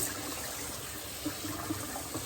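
Water runs and splashes while raw chicken is rinsed in a kitchen with lemon and vinegar, a steady faint wash with small gushes and no talking.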